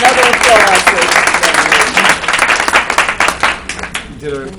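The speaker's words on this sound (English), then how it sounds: "Let's give Janelle another applause." Audience applause at a student internship presentation, a burst of brisk clapping from a room of people that thins out toward the end as a voice begins speaking.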